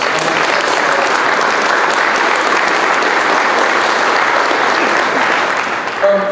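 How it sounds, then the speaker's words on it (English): Audience at a university athletics press conference giving a big round of applause, loud dense clapping from many hands held steady for several seconds before tapering slightly at the end. "So give yourselves a big round of applause."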